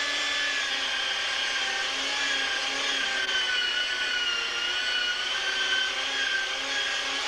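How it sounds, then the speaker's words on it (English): A pasta machine rolling a floured dough sheet through its widest setting for ravioli and lasagna, a continuous mechanical whirring hum, even and close, with no talking. "Now on the widest one, you put your machine on and you push it through."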